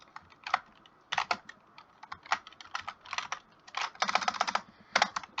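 Keystrokes on a computer keyboard while entering brackets in Java code, a close run of quick taps in irregular bursts with brief pauses, loud and nearby.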